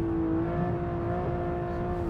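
A high-performance sports car engine pulls hard in third gear at around 80 miles an hour, a sustained loud droning roar with a steady tone, no talk over it.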